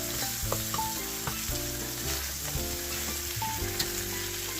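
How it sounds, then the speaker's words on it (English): Pork belly sisig fries at high heat in a pan, giving a dense steady sizzle with occasional stirring clinks and faint background music, close and even in level. "And cook it in a high temperature."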